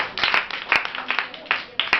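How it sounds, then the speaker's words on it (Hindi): A crowd at a talk about Gurukul Kurukshetra boarding school claps in a bright, patchy burst of overlapping hand claps, with several sharper individual claps standing out and a voice speaking beneath. "अरे वाह, ताली बजाओ जरा जोर से"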